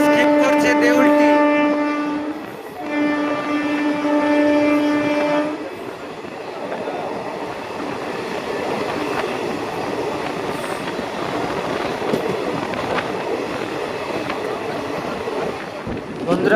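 The Santragachi–Digha Fast Passenger train rolls along on its first day of service, a loud continuous rumble of wheels and carriages from on board, opening with a long, sustained horn blast that breaks briefly and then fades into the steady running noise.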